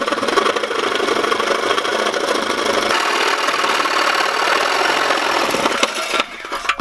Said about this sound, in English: our weapon of choice for today is the Sawzall, the trusty Sawzall